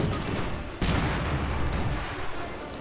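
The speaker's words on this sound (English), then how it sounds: "German mortar continues to fire away" A heavy mortar fires in the Company of Heroes 2 video game. A deep booming shot lands amid continuous battle rumble, followed by a fainter second report.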